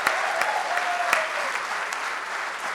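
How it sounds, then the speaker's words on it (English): An awards-ceremony audience in Mumbai applauds loudly and steadily, a dense wash of clapping with a few sharper claps standing out, and no voices over it. "Let's give the man a huge, huge round of applause."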